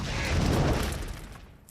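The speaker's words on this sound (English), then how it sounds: "CGI explosion." CGI explosion in a zombie movie: a broad, rumbling blast of noise that swells and then slowly fades over under two seconds, heard alone with no talk.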